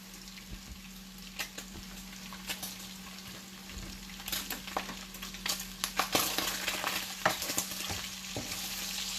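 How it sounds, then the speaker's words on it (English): Bacon sizzles and crackles in a frying pan while being stirred, with scraping and clatter from the mixing building louder over a steady hum, no talking. "Mix that bacon."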